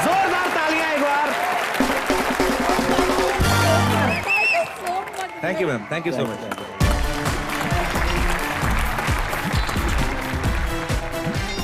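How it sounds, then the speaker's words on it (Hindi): A studio audience at a comedy show claps loudly and steadily, with a short break partway through where a voice speaks and thanks a woman, before the applause resumes with chatter layered over it. "जोरदार तालियां एक बार"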